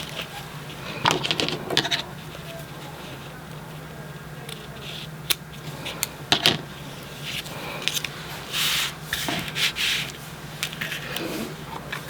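Paper being trimmed for a Creative Memories scrapbook album page, a series of short, crisp snips and rubbing rustles scattered through a quiet room, close and moderately faint, with no talking.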